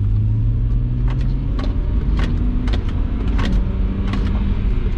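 A BMW 135i fitted with Whiteline subframe inserts and an Eibach front sway bar rolls over a speed table, giving a steady engine and road rumble with a few soft thumps from the suspension and no other noises.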